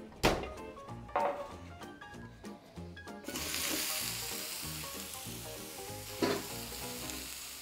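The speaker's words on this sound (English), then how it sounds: "our baking sheet is going to be blazing hot. Time to dump our seasoned cauliflower on there" Seasoned cauliflower dumped onto a blazing hot baking sheet, a few clattering thunks and then a sudden loud, sustained sizzle that stays close and steady, with no talking.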